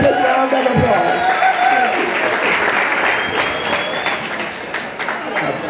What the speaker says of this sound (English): Give Andy a big round of applause.